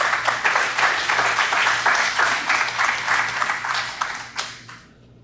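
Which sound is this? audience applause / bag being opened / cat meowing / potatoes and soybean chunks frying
audience applause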